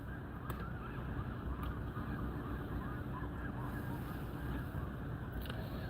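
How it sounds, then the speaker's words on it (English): A large flock of birds honks faintly in the distance, the calls blending into a steady outdoor wash with a few brief sharper sounds. "that's a big flock of birdies"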